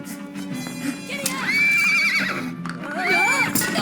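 A cartoon horse in an animated film gives a long, loud whinny with rising and falling pitch, then a second one, close up with voices talking underneath.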